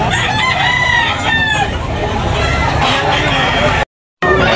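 A gamefowl rooster crows loudly and near at a Cebu rooster market, its call rising over a dense, noisy crowd of chatter and other birds, cut briefly by a short gap of silence near the end.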